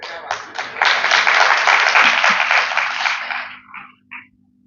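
A large audience breaks into loud, sustained clapping at a talk, swelling quickly, holding steady for several seconds, then thinning out to a few scattered claps at the end.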